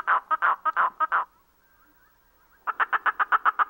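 A harsh, hoarse wren call repeated in quick raspy bursts, a pause with a faint thin tone, then another rapid series of scratchy notes, close and loud.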